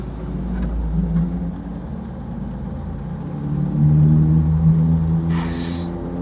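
A truck pulls in past a small car, its engine a low rumble that swells and grows louder as it draws close, with a brief hiss of air near the end and no talk.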